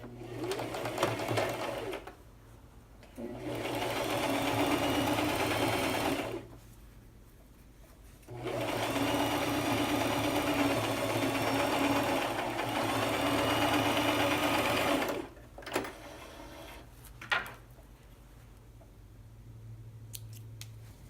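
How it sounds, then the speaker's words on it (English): Sewing machine stitching a seam at 5/8 inch in two long steady runs of rapid mechanical whirring, separated by pauses with small clicks and handling noises, close and alone. "Sewing at 5/8 of an inch."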